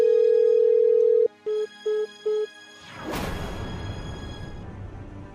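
A phone call that will not go through, a long steady electronic tone followed by three short beeps of a busy signal, then a soft whoosh and faint hiss.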